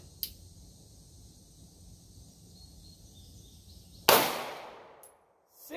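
Glock 26 short-barrel pistol firing a 147 grain Winchester Silvertip 9mm round toward a chronograph 3 yards away: one sharp, loud report that rings out and decays, following a faint click in otherwise quiet surroundings.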